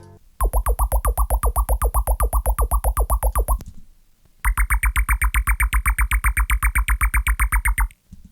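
A synthesized bass line in Ableton Live pulses in rapid, evenly repeated notes with a gritty, filtered effect, pausing briefly before continuing an octave higher.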